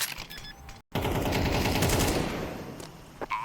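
Rapid automatic gunfire in a Counter-Strike 2 esports match, a dense loud burst of rattling shots after a brief cut, tailing off into scattered single cracks.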